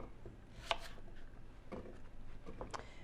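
A knife cuts apples around the core for cranberry applesauce: several sharp, separate chopping strokes on a board, close and fairly loud, with short pauses between them and no talk.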